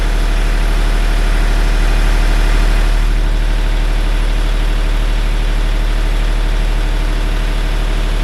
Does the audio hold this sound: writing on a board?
no